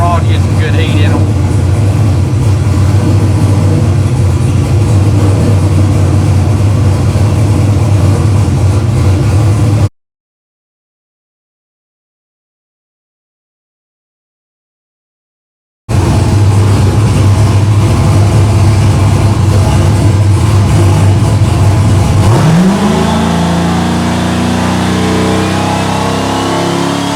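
A turbocharged car engine warming up, droning loudly and steadily at idle. After a brief silent gap it keeps droning, then rises in pitch near the end as the revs climb.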